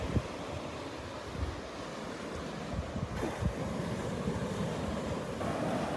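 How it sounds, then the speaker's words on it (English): Ocean waves rolling onto Vanderbilt Beach, a continuous broad wash of surf with gusty wind buffeting the microphone, steady and fairly loud throughout with no talking. "let you listen to the sounds of the waves here for a few minutes"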